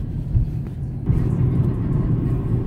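Steady low road rumble and engine drone fill a car cabin while driving along a straight road near home on a cold winter commute, with a slight rise in rumble partway through.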